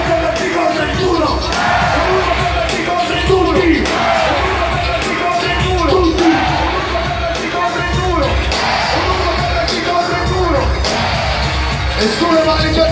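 A large concert crowd at a reunion show screams and yells continuously, a dense, loud roar of many voices with whoops and shouts rising and falling throughout.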